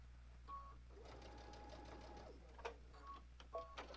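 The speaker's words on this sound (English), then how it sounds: "Now I'm just going to sew off my fabric" A sewing machine stitches off the fabric edge while attaching quilt binding, producing a steady mechanical whirr with a light rhythmic hum, followed by a few clicks and brief motor bursts.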